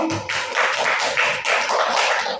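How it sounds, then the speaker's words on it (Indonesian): A small group applauds someone in a class session, giving a short run of several claps in a loose rhythm, close and fairly soft, with no talking. "Tepuk tangan untuk Miko"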